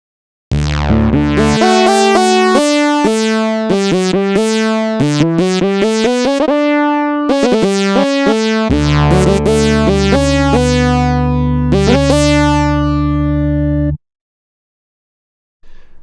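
A bright Native Instruments factory library synthesizer preset, Tube Erupt, plays a fast, bubbling sequence of tonal notes, then settles into a held chord before stopping abruptly.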